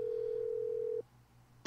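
A steady telephone tone in the video game Clock Tower holds for about a second, cuts off, then brief quiet before a sharp electronic burst at the end.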